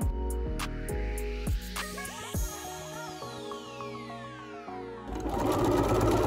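A sewing machine understitching the lining edge of a reversible bucket hat, with several short bursts of rapid mechanical whirring separated by pauses, then a longer sustained run and a noisier stretch at the end, close and clear.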